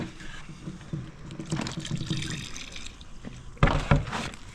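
Water poured from a watering container into soil in a seed tray for tomato and onion seedlings indoors, a soft uneven trickle and splash that swells into a louder gush near the end.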